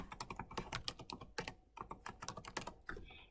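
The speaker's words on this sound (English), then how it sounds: "Typing in a password." Rapid clicking of keys on a computer keyboard as a password is entered, irregular bursts of quiet keystrokes close up with no voices.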